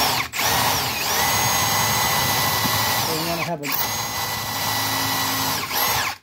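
A power drill whines loudly at close range in long bursts, briefly stopping and restarting twice, with a voice speaking under the noise.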